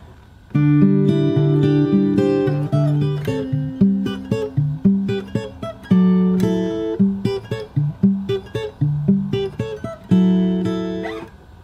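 Fingerstyle acoustic guitar plays the opening section of a song from Beauty and the Beast, with a ringing bass line under a plucked melody, steady and close with no voice.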